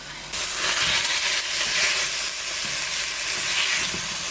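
Chicken sizzling loudly in a hot pan while being stirred for a Thai chicken noodle soup, a dense continuous hiss close up with scraping shifts as it is mixed, no talking.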